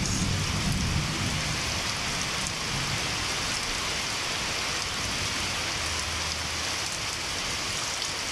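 Heavy typhoon rain pours steadily in a dense hiss, while low rumbles of distant thunder roll underneath, strongest near the start and again later.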